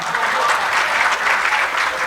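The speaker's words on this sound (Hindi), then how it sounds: "तालियां बजाओ प्यारे" A crowd at a Hindi comic poetry recital breaks into applause, a dense, even burst of many hands clapping together that carries on for the whole stretch with no voices over it.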